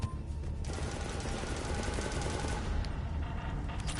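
Sustained automatic gunfire from Mass Effect 3 fills the whole stretch, a dense, loud, continuous rattle of rapid shots with no voices over it.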